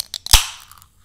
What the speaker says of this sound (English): Got a lot on that little fizz sound.